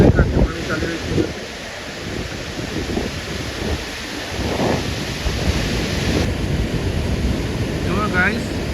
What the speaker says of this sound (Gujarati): બંને કાંઠે પાણી ચાલી રહ્યું છે.